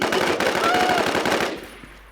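Automatic gunfire in the survival shooter Infestation: a rapid, loud burst of evenly spaced shots for about a second and a half, then fading off.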